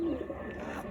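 Madras pigeons in a loft give a low, continuous cooing close by, layered under a man's speech throughout the brief moment.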